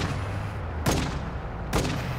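Two sharp gunshots from Call of Duty: Warzone 2.0 ring out about a second apart, each a loud, punchy crack over a constant rumbling game background.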